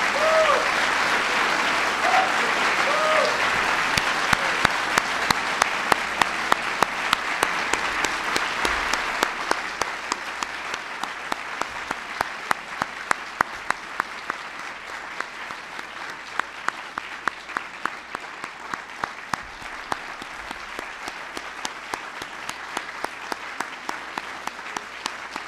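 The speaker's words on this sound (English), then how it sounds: "Can everybody please give them one more big round of applause?" An audience at a ceremony honoring the nation's top innovators and scientists gives the honorees a long round of applause, dense and steady at first, then gradually thinning and softening toward the end.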